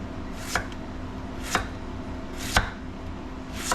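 Beets being sliced with a knife on a cutting board, four evenly spaced sharp chops about a second apart over a low steady hum, close and alone.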